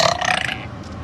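A single loud, close burp lasting about a second from a woman on a livestream, rough and throaty, fading at the end with no talk over it.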